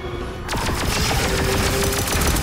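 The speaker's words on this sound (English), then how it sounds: "Oh, two perfect shots, look at that." A rapid string of blaster shots rings out in the Star Wars Tales from the Galaxy's Edge VR shooter. After a brief quieter moment, the sharp zapping bursts come loud and close, repeating quickly over steady background noise.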